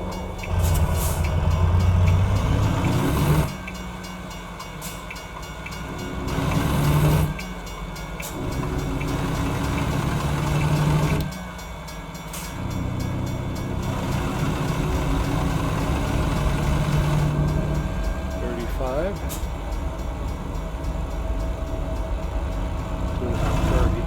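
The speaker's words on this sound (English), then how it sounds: "Trains are coming." Passing trains heard from a moving 18-wheeler truck on a highway out of town, a steady loud rumble of rail cars with engine drone throughout, swelling and dipping over about twenty seconds.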